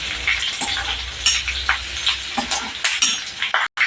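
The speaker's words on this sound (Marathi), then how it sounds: "आता मी ही ओली मिरची घालणार आहे तर हे पण चांगलं परतून घेणार आहोत" Garlic and green chillies sauté in a pan, a close crackling sizzle broken by a utensil scraping and clinking against the pan while they are stirred.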